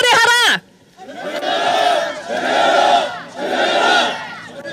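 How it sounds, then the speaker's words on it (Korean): A crowd at a rainy candlelight rally in Gwanghwamun, Seoul, shouts protest chants in three loud rhythmic bursts after a brief amplified voice at the start. "함성으로 외쳐주십시오."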